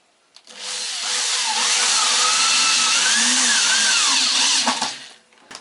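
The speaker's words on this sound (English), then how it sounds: "I'll just use a quick clamp to hold the block in place while I screw this, put the first screw in for this block" A power tool drives a screw into a wooden block held by a quick clamp: one sustained, loud motor whine that ramps up, holds for about four seconds with rising and falling pitch, then spins down.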